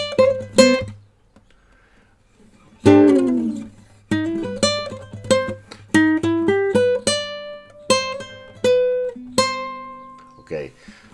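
A jazz guitar lick with a leading tone resolving to C, the B fretted with the little finger, rings out as a run of clear plucked single notes after a short pause, solo and close.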